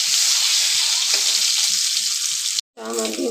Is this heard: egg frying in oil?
yes